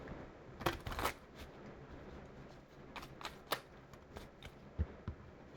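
Tarot cards being shuffled for a reading, a run of crisp riffling bursts and soft flicks that come and go over a quiet room background, with no talking.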